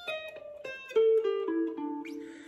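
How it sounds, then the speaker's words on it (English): Solo electric guitar plays a descending walk-down lick from a song's solo, a run of single picked notes stepping down in pitch, each ringing briefly before the next, close and clear with no talk. "Then you're gonna do this walk down,"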